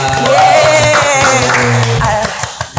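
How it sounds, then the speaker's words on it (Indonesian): Audience clapping and applause at a talk about preserving panting music culture, mixed with voices and crowd noise, then thinning to a few scattered claps at the end. "tepuk tangan semuanya."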